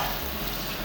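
Chicken reshmi seekh kebabs on sticks frying in a pan over a medium flame, pressed down as they cook, a steady close sizzle with no pauses and no talking.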